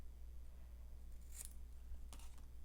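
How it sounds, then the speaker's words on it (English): Scissors trimming paper leaf cutouts for a fall-themed planner page, two brief crisp snips about three quarters of a second apart, quiet and close against a low hum. "Let me try to trim that so it's straight."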